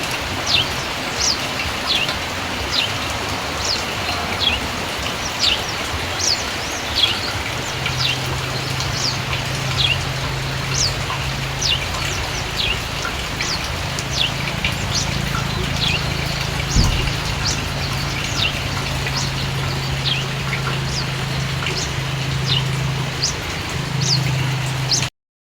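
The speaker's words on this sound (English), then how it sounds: "So guys, the rain just caught up to me, as you can see." Steady rain falls over a Kenyan village as a constant broadband hiss, with birds chirping repeatedly above it and a low hum entering partway through; no one speaks.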